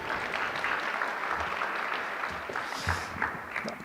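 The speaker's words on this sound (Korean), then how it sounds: "큰 박수로 맞이해 주시기 바랍니다" Audience at a forum on education, data and AI welcoming a keynote speaker with sustained applause, a dense wash of many hands clapping throughout, fairly loud and steady.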